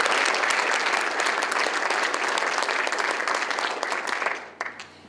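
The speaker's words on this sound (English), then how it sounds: "So let's give them a round of applause as well." Audience applause at the 2007 Golden West College Courtyard of Honor ceremony: a dense, steady round of clapping from a sizable crowd that thins and dies away in the last second.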